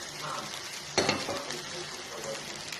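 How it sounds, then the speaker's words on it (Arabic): Rice being stirred and fried with spices in a pot, a steady close sizzle with scraping stir strokes and a louder burst of frying about a second in. "انا قلبت الرز، هنزل عليه بالتوابل كلها"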